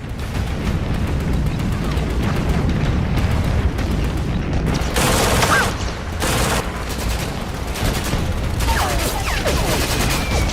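Battlefield gunfire and grenade blasts in a World War II commando landing scene at an old pier, with dense continuous shooting and bursts of loud explosions throughout, heavy and close.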